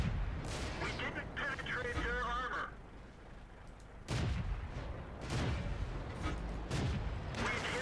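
Tank guns fire in a World of Tanks battle: several heavy, booming shots land a second or so apart, with the longest gap after the first few, against a constant rumble of combat noise.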